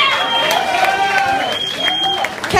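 Applause and cheering from a blues club crowd, a dense steady patter of clapping that holds throughout, with a few voices calling out over it.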